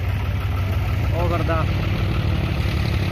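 A tractor engine runs in a muddy field, idling with a steady, close, low rumbling throb while someone speaks briefly over it.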